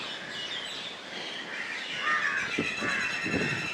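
Many birds chirp and call together around a large banyan tree beside a temple on Karaitivu island near Jaffna, a dense, fairly distant chorus of overlapping tweets that grows busier toward the end.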